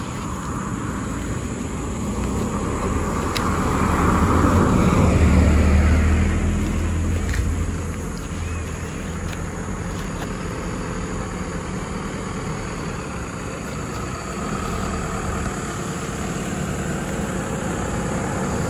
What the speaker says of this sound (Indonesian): masih banyak kendaraan yang lintas